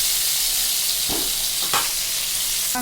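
Stuffed pointed gourd fries in a pan with a constant loud sizzle, broken by two soft stirring scrapes and a brief clatter at the end.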